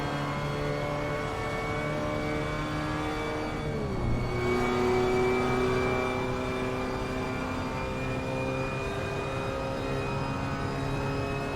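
A race car runs at wide open throttle up the back straight at Mosport, its engine note climbing steadily, dropping briefly at a gear change and climbing again; loud and continuous, with no talk.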